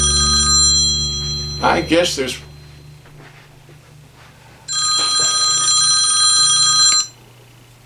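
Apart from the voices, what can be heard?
phone ringing during live show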